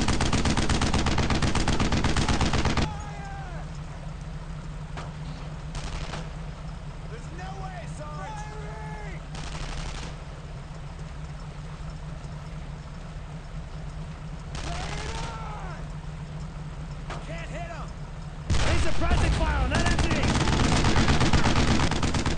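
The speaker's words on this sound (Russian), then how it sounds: "Сейчас мы, значит, отправили пулемету стрелять." Machine gun fire in the video game Brothers in Arms rattles in loud bursts at the start and end, with sparser shots, a steady engine-like drone and someone talking in between.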